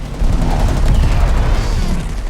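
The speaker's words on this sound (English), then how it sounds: "Yes, lots of explosions, aircraft flying very low between ships" Explosions and gunfire from the WWII film Midway, a loud, dense, continuous barrage of booms and rapid shots rumbling heavily throughout.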